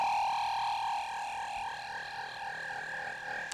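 A steady, droning synth tone through a Buchla 297 Infinite Phase Shifter, its slow, swirling phaser sweep rolling through the upper harmonics, continuous and fairly quiet.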